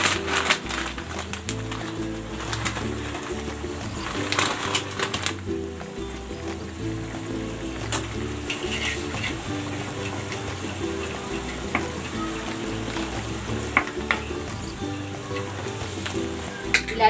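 Pot of boiling water with egg noodles added for a pechay dish, a steady bubbling sizzle with scattered clinks and stirring sounds close by, continuous throughout.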